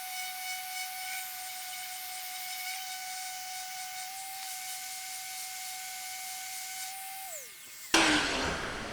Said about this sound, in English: I'm going to start with sanding these with 120 grit